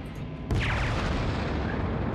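Cruiser main guns fire in World of Warships, a single heavy booming salvo that swells and rumbles on under continuous engine and ambient game noise.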